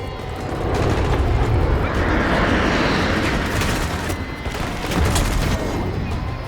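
Grenade blasts and bursts of rapid gunfire in a Call of Duty Black Ops 6 battle, with loud rumbling explosions and dense crackling shots swelling and ebbing continuously, close and heavy.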